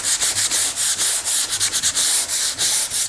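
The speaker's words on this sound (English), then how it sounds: "I'm actually putting pressure on the side of the sanding block as I go around" Sanding block rubbed over wood filler on a wooden surface, a loud, close, rhythmic scratchy rasp of quick back-and-forth strokes, steady and continuous with no voices.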